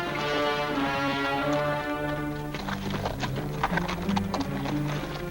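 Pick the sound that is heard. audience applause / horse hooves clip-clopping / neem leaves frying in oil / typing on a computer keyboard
horse hooves clip-clopping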